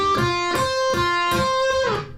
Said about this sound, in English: So the first half of the solo sounds like this